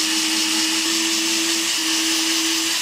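A power drill bores screw holes in wood, giving a loud, steady motor whine that holds for about three seconds before cutting off.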